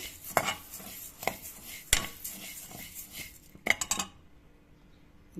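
Spices roasting in a pan while being stirred, a utensil scraping and knocking against the metal in irregular clinks and taps, moderately close, with a quiet background hum and no speech.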